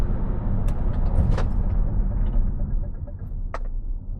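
Leapmotor B10 electric car braking hard from speed at night, a loud continuous road and tyre rumble that gradually eases, with a few brief clicks.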